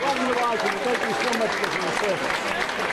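A crowd of 300-400 people welcoming an Honor Flight claps steadily in a dense wash of applause, with voices mixed in throughout.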